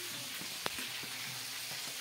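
Fish sizzling in a frying pan, a steady soft crackle with a few sharper pops and spits, heard close but fairly quiet.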